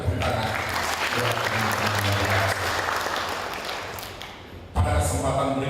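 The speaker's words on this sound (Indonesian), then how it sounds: "Sekali lagi kita tepuk tangan." A large audience applauds at the closing ceremony of an Indonesian officials' consolidation meeting, loud sustained clapping in a hall with a low voice or music hum underneath, dipping briefly before a renewed burst near the end.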